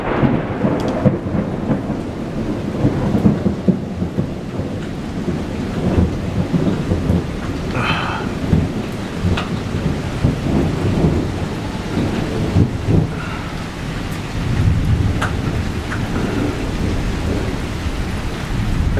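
A thunderstorm in Iowa with steady rain falling on surfaces throughout and rolling thunder rumbling repeatedly, loud and close, with no voices present.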